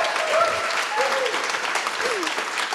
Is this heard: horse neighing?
no